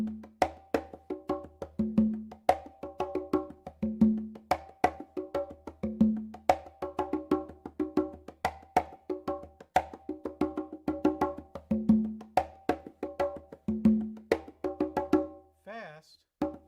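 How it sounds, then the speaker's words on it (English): Brazilian samba rhythm in three is played slowly on percussion as a steady, repeating cycle of crisp strikes with a pitched accent on each beat. A short vocal sound comes at the very end. "Brazilian samba in 3"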